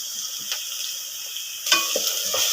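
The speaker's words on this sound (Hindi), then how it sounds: "अब इसमें लहसुन, अदरक, जो मिर्चें कूट कर रखी थी वो शामिल करेंगे" Onion sizzles in a pan with added garlic, ginger and crushed chillies for a potato and capsicum curry. A steady close hiss with soft stirring scrapes swells louder partway through as more goes in.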